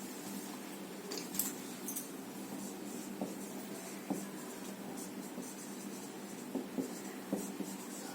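Writing names on a board in a biology class, faint scratchy strokes with occasional light taps, steady and quiet throughout with no talking.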